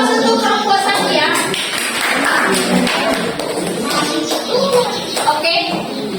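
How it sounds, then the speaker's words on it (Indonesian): Classroom applause for a student group finishing its presentation, dense clapping from many hands filling the room at steady loudness with chatter mixed in. "Aplaus untuk kelompok 1 ya."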